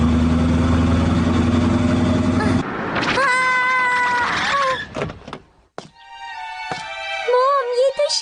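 A cartoon cat meows in a high, wavering, drawn-out voice after a loud engine-like rumble cuts off, with several sliding mews following in a Hindi-dubbed animated episode.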